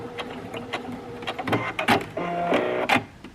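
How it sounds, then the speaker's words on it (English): A sewing machine back stitches on pants fabric, quick mechanical bursts of stitching close by that stop, start and reverse in short runs over a few seconds. "I'm just going to back stitch here."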